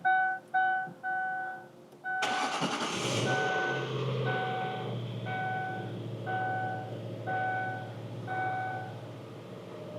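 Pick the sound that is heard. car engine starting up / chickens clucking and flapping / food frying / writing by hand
car engine starting up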